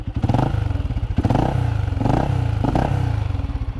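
A Motostar Cafe 400, a 400cc motorcycle, rumbles close up through its exhaust with a pulsing idle and four rhythmic blips of revving, each swelling and falling back, with no talk over it.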